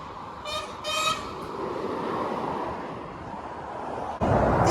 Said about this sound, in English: Did you just hear that scania then?